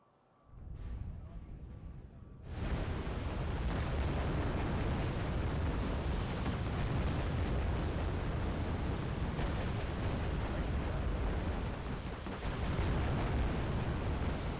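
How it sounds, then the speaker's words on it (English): Mortar shells explode in the Arma 3 war game, striking a Chieftain Mark 11 tank. After a short quiet opening with a few pops, a loud, dense, continuous roar of blasts and rumbling fills the rest of the passage. "Mortars coming from there, hitting your Chieftain Mark 11 as well."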